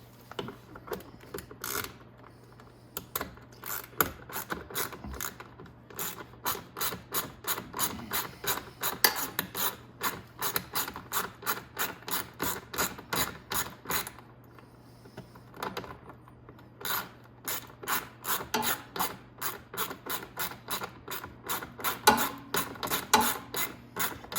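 A ratchet with an 8mm socket turns out a long bolt under the rear brake assembly of a Venom Grizzly 125cc. Quick bursts of rhythmic clicking run for over twenty seconds, broken by short pauses, close and quiet.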